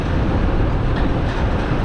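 A mid-displacement four-cylinder sport motorcycle engine idles, a steady dense low rumble held at an even level throughout, with no voices.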